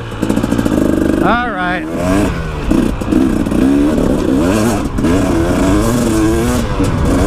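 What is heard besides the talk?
KTM 300XC-W two-stroke dirt bike engine revving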